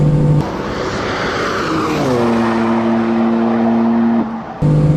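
A high-revving 2015 BMW M3/M4 engine roars at full throttle on the Road America race track, loud and close, its pitch climbing steadily through the gears past 150 before a brief dip and surge near the end.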